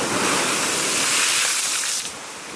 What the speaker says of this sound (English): the waves are crashing hard here